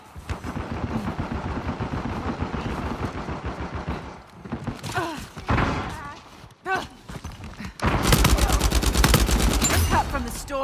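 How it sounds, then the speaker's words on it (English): Bursts of rapid gunfire and explosive shots in the video game Uncharted 4, Bounty Hunter mode, with a voice talking over parts of it; a dense volley of shooting fills the last few seconds. "Should probably just follow the gunfire."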